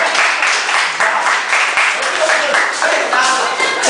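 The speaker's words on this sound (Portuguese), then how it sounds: "Palmas para o ajudante." Classroom students clapping for a helper during a hands-on biology lesson on making bread, a loud, close, uneven burst of clapping mixed with chatter and voices throughout.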